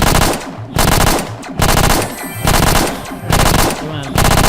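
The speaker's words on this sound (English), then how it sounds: "We have an alien shooting an alien." Rapid automatic gunfire from aliens in the space video game Cosmic War Tycoon, loud repeated bursts of shots separated by short gaps, with no speech.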